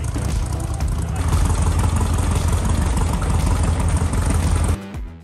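An old kit car engine, left sitting for ten years, runs steadily during final testing and tuning, a loud, even, rumbling idle close by that cuts off abruptly near the end.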